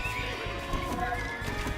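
Horses neigh and whinny over clip-clopping hooves in the Age of Empires II real-time strategy game, a dense, steady layer of game cavalry sound filling the short stretch with no talk.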